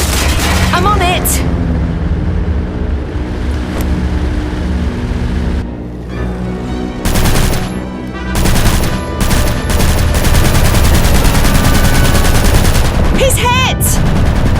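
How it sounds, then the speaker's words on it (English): Loud, close machine-gun fire in a WWI aviation video game, long rattling bursts over a constant engine roar, with a brief lull midway before heavier, continuous firing resumes. "Start shooting back then."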